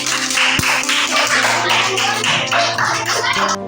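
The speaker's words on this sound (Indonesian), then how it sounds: "berikan tepuk tangan untuk kelompok" Classroom applause for a student group, a dense burst of many hands clapping together, loud and steady throughout with a faint voice at the start.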